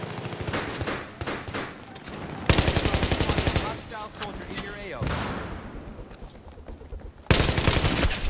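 Gunfire rattles in a Battlefield 4 match, with dense automatic bursts and fusillades coming in loud waves, mixed with game effects and players talking over the shooting.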